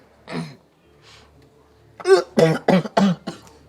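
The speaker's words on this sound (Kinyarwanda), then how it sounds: "urwaye inkorora" A faint cough at first, then a burst of four or five harsh, rapid coughs close to the listener.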